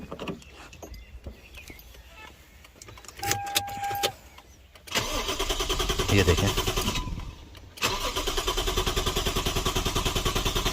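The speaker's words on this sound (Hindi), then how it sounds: "इग्निशन ले रही है लेकिन स्टार्ट नहीं हो रही है" A car engine cranks but fails to start despite a good fuel pump and working ignition: two long rhythmic bursts of starter churning with a short gap between, loud and close, after brief speech and clicks.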